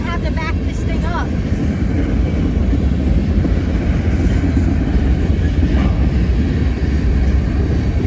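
A CSX SD70 diesel locomotive rumbles loudly and steadily nearby as it is maneuvered and dropped off, its engine drone filling the scene with continuous low-frequency noise throughout.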